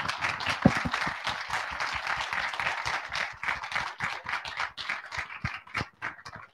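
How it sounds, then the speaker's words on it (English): An audience gives a warm round of applause for the Waterstart crew at a Bermuda talk on shellfish restoration, with sustained clapping from many hands and close, lively texture throughout. "Once more, a big round of applause for the Waterstart crew, if we can."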